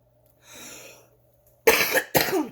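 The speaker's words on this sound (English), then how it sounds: "This cough is terrible" After a soft breath, two sharp, loud coughs follow in quick succession, close to the listener.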